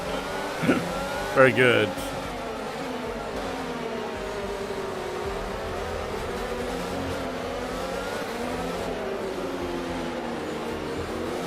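A race car engine droning steadily in F1 22 played in VR, its pitch slowly rising and falling throughout, with a few brief spoken words near the start.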